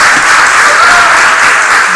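A church congregation breaks into loud, dense applause, a sustained wash of many hands clapping at once, close and continuous for the whole moment.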